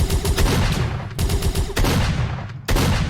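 Sniper gunfire in a video game level, several loud close shots with heavy reports, the bursts separated by short gaps in a rapid, uneven rhythm.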